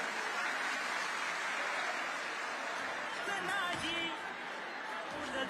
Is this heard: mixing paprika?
no